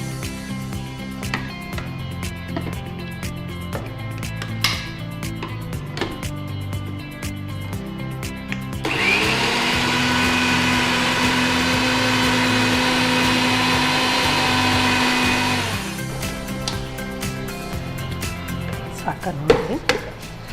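A kitchen mixer grinder whirs steadily for about seven seconds, blending rice, grated coconut, salt and water into a fine paste, with clattering kitchen handling before and after the loud, even grinding run.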